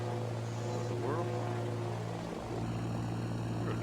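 A small plane's engine drones steadily in a flight video game, a constant low hum with a slight pitch shift, heard moderately loud and alone without talk.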